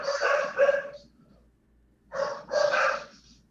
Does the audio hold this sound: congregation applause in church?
no